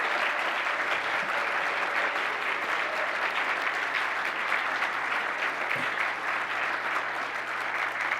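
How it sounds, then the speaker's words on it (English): A brunch crowd gives one more round of applause for the Wisconsin Silver Circle inductees, with dense, even clapping that carries on for several seconds over a faint low hum in the room. "Can we get one more round of applause for all of our inductees today?"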